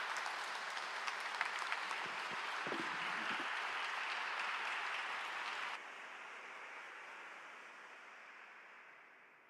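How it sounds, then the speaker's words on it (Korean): A church congregation in Paris gives warm applause to welcome a pastor to the pulpit. The clapping is dense and steady, then drops abruptly to a softer level and fades toward the end. "목사님 나오실 때 뜨거운 박수로 환영하겠습니다"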